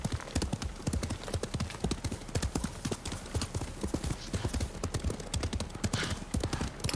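Horse hooves clip-clop steadily at a brisk riding pace in the samurai video game Ghost of Tsushima, a dense, continuous, loud rhythm of hoofbeats with no talking over it.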